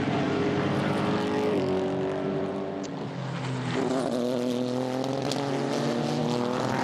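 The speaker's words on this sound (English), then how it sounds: "Sounds of the engines as well with the DPIs" DPi prototype race car engines at the Sebring twelve-hour endurance race, loud sustained roar with shifting pitch as cars pass, several engines overlapping close by.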